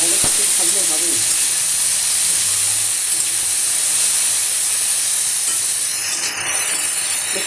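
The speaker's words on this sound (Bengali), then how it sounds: "কড়াইতে দিয়ে দিলাম শুকনো লঙ্কা, ছোট্ট ছোট্ট করে কাটা বেগুন আর আলু" Dried red chillies, small-cut eggplant and potato sizzle loudly in a hot wok, a dense, constant hiss that fades slightly toward the end.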